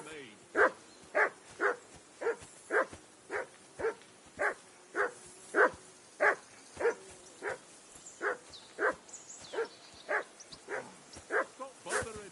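Mutt the dog in Kingdom Come: Deliverance II barks over and over in a steady, evenly spaced rhythm, about twenty sharp barks at close range, with faint background ambience between them.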